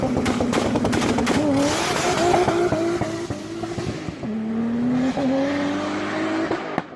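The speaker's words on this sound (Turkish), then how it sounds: "Volkswagen'in VR6 motoru" A Volkswagen VR6 engine revs hard and repeatedly, pitch climbing and dropping through gear changes, loud and close with a raspy, sustained roar.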